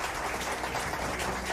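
Audience applause for the hosts at a French gathering in Arçais, a dense, steady wash of many hands clapping with no break, fairly close and loud.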